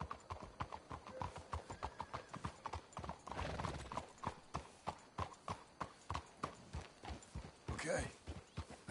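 Horses trot in Red Dead Redemption 2, their regular hoofbeats clopping close and steady throughout, with a brief voice and a short whinny-like cry near the end.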